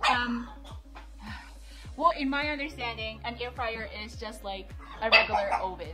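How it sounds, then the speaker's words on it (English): A dog barks repeatedly in sharp, loud bursts nearby in a home kitchen while a person talks over it, the yips and barks scattered irregularly through the speech. "I'm sorry for my dog"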